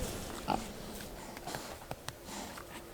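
Pig grunting on pasture, a few short low grunts and snuffles close by, scattered irregularly over a quiet outdoor background.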